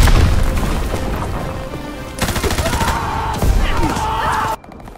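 Enemy ammunition supply blowing up in the World War II shooter Call of Duty WW2, heard as loud, dense booms and rolling blasts mixed with rapid gunfire across the whole battle, cutting off abruptly near the end.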